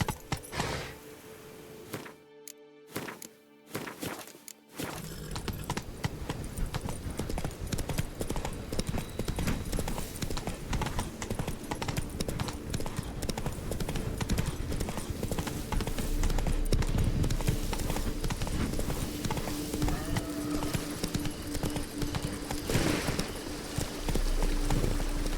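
Roach, the horse from The Witcher 3: Blood and Wine, gallops with steady rhythmic hoofbeats close by, following a few seconds of scattered thuds and quiet, under a continuous game soundscape.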